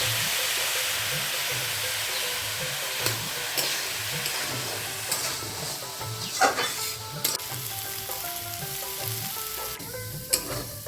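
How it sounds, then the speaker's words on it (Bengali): Pointed gourd (potol) pieces fry in hot oil for a fish-roe dish, giving a steady, close sizzle with occasional utensil scrapes and stirring clinks, no talking. "এখন পটলটা ভেজে নিচ্ছি।"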